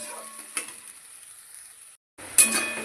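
Spice paste seasoned with salt and turmeric frying and being stirred in a pan, a steady soft sizzle with a few light utensil scrapes and clinks, a brief gap, then louder scraping as cooking resumes.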